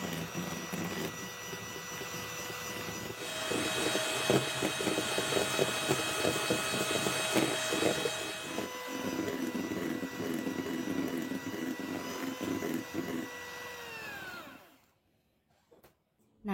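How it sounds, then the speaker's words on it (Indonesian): A handheld electric mixer whisks egg yolks with powdered sugar at top speed, a steady whining motor drone with beaters rattling in the bowl that runs continuously, then winds down and stops near the end. "ini aku kocoknya masih pakai hand mixer atau mixer tangan, pakai kecepatan yang paling tinggi"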